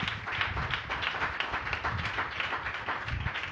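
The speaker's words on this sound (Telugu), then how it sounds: "నమ్మితే కోట్ల చప్పట్లు గట్టిగా" A church congregation claps hard and continuously, a dense, steady wash of many hands at a moderate level, heard on its own without talk.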